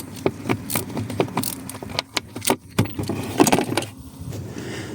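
A Leatherman ratchet driver turns a screw while a carburetor is taken apart, giving close, irregular metallic clicks and light rattling in short bursts, with no talking.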